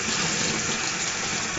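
Water is splashed onto a bar of shaving soap, giving a steady close rushing and splattering wash with no pauses and no voices.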